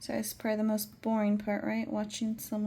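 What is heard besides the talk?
No everyday noise stands out behind the speech.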